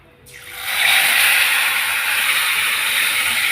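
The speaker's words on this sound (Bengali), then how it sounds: "এখন আমি মাছগুলো দিয়ে দেবো।" Spiced, masala-coated fish laid into hot oil over cumin seeds in a home kitchen pan, bursting into a loud, steady, close hiss that swells within a second and holds evenly with no talking.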